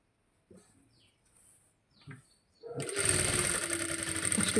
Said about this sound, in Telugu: నెక్ మీద కొంచెం దూరంగా ఒక కుట్టు వేసేయాలి